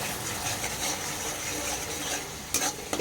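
Yogurt is stirred into a bubbling mustard masala for a Bengali katla fish curry, giving steady scraping and wet sizzling from the pan with a couple of sharper utensil knocks near the end.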